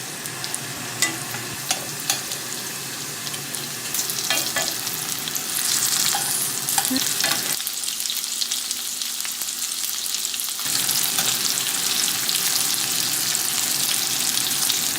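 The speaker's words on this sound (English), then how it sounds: "Now on medium heat, in the hot pan, I'm gonna add some olive oil, add the salmon" Salmon fries in olive oil in a hot pan over medium heat, giving a steady, close sizzle and crackle with scattered pops that holds loud and continuous throughout, without voices.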